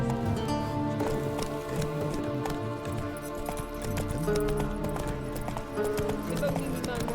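Roach the horse gallops in The Witcher 3: Wild Hunt, a steady run of hoofbeats under background music and voices.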